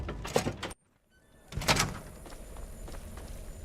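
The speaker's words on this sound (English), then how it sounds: "Unlocking outer doors." Outer doors in the Fallout 3 video game unlock and slide open: a mechanical clunk, a brief silence, then a louder grinding slide that fades into a low hum.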